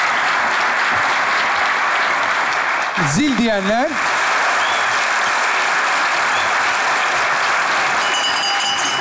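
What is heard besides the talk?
studio audience applause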